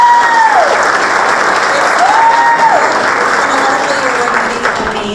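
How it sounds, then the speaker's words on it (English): Audience applause at a National Junior Honor Society induction ceremony, steady dense clapping filling the room throughout, with a faint tonal whistle-like sweep riding over it. "Let's give them another round of applause."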